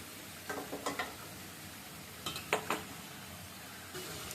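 Prawns frying in spice paste in a pan, quiet sizzling under a few soft clacks and scrapes of a spatula stirring in short bursts.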